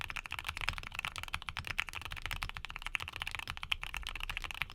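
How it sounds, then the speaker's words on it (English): Fingers type steadily on a mechanical keyboard fitted with Aqua King switches in polycarbonate housings, a quick, continuous run of close, muted and creamy keystrokes with no voices. "even though these switches feature polycarbonate housings, expect a deep and creamy sound signature with these Aqua Kings"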